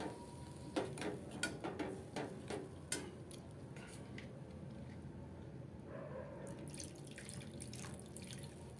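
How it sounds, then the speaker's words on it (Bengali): Small splashes and drips of water falling into a pan of spices frying in oil, a few distinct drops in the first seconds, then a quiet steady sizzle-like hiss with more faint drips near the end. "তো বন্ধুরা এবার এর মধ্যে আমি পরিমাণ মতো জল দিয়ে দেবো"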